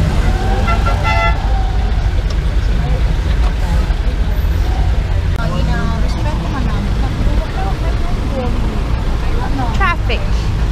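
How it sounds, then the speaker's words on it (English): Busy Davao City street traffic in the crowded pre-Christmas season, with a constant low rumble of cars, buses and jeepneys and repeated short horn toots scattered throughout, close by. "Traffic."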